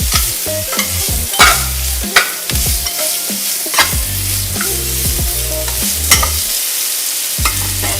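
Vegetables seasoned with salt and pepper are stirred in a sizzling frying pan, the spatula scraping and knocking the pan in repeated loud strokes over a constant fry, with no talking.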